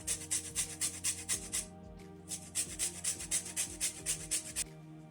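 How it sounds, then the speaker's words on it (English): Lemon rind being grated for blueberry muffin batter: a close, steady series of rhythmic rasping strokes, pausing briefly midway before resuming, with no talking. "So just go ahead and grate a little bit of lemon rind."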